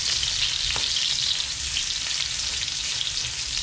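Garlic frying in a hot pan as the start of pinakbet, a steady bright sizzle with a few faint utensil taps, close and continuous without any talk.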